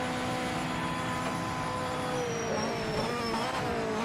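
A race car in the racing game Project Motor Racing, its engine a steady loud whine that drops in pitch as the car brakes hard in a straight line and downshifts toward first gear, with no talking.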